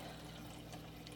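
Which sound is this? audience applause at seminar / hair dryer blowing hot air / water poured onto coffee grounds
water poured onto coffee grounds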